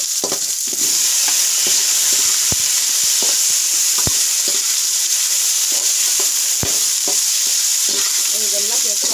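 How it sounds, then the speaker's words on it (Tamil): Curry leaves and brinjal sauté in a hot pan for a potato brinjal curry, giving a loud, continuous close-up sizzle broken by repeated scraping and tapping of a stirring spoon. "கருவேப்பிலை, இதெல்லாம் நல்லா வதக்கிட்டு கத்திரிக்காய்"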